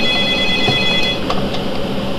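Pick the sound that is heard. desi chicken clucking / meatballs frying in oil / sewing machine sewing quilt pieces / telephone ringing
telephone ringing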